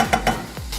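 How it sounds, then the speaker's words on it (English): Ginger and garlic paste with fresh chilies frying in a pan for Kenyan chicken wet fry: a short burst of three quick stirring scrapes over a soft sizzle, close and moderately loud. "So you want to fry this until it's fragrant"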